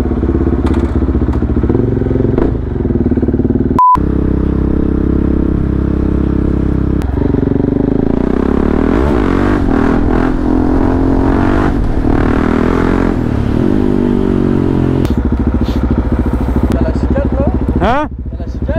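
A motorcycle rolls slowly along a road at night with a loud, continuous engine rumble and some rattling. People talk over it throughout.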